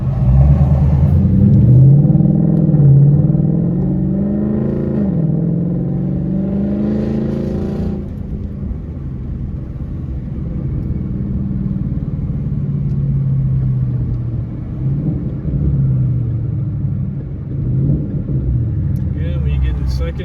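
A 2014 Ford Mustang GT with its 5.0 engine pulls through gears in sport shift mode, a steady low rumble rising and falling with each shift while people talk over it inside the car.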